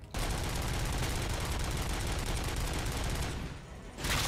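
Dense, rapid gunfire from a shotgun in the video game RoboCop: Rogue City, loud and continuous with a short dip before another burst.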